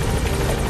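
A helicopter in Metal Gear Solid V roars loud and close, its rotor and engine forming a dense, steady wash of noise with a faint rhythmic beat.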